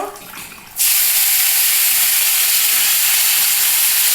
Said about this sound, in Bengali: এবার আমি কি করছি উচ্ছের জলটাকে ছাড়িয়ে নিচ্ছি